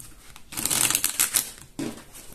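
Oracle cards being shuffled and drawn for a tarot-style reading, a close papery flurry of riffling and sliding that pauses briefly, then returns with a short scrape.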